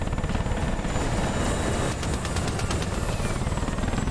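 Helicopter in a video game PvP event: a loud, continuous rotor thrum with rapid chopping pulses and a steady engine whine, close and dominant throughout with no talk.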